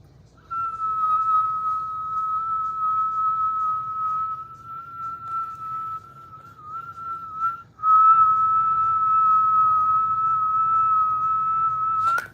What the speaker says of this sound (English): Should I whistle while I do it too?